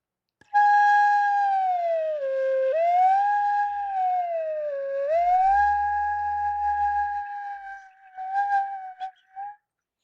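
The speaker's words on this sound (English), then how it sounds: "this is an example of what I refer to as head joint sirens" A flute head joint played alone produces a siren effect, a clear whistling tone that swoops down and back up twice in slow glides, sustained and close, ending with a few short wavering blips.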